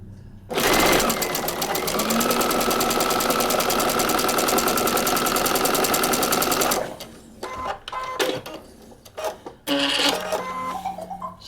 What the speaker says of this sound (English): We're going to start stitching on the extended line, and we're going to go all the way through.